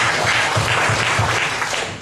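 Congregation at a church seminar in Timor-Leste applauding for Jesus, a loud, dense burst of clapping with a slightly pulsing, rhythmic quality that eases off toward the end.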